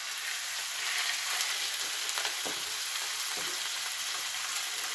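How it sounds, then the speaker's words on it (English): Steaks sizzle in hot olive oil in a pan, a bright, dense crackling hiss that runs continuously and close, with scattered small pops and no one speaking. "These are definitely going to sizzle"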